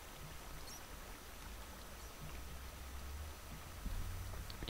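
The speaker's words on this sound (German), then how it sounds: "Ich guck mal, ob ich den Wasserfall hier ausschalten kann." A waterfall in the video game Minecraft, a faint steady rushing wash of water running continuously, quiet and unbroken with no speech.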